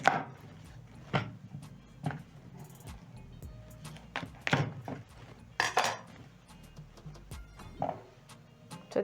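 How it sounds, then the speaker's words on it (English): A knife chops through raw cassava on a board, producing a run of sharp, close thuds and clacks at an uneven pace, some louder than others, with faint kitchen clinks between. "So next I'm going to chop my cassava in another half, into quarters, that is."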